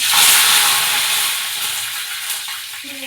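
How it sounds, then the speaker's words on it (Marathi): Mustard seeds, cumin and curry leaves dropped into hot oil give a loud, bright hiss and sizzle that starts strongest and slowly eases off, close up and without speech. "इथे तेल आपलं छान गरम झालेलं आहे तर आता मी ह्याच्यामध्ये सगळ्यात पहिले मोहरी घालून घेणार जिरं कढीपत्ता"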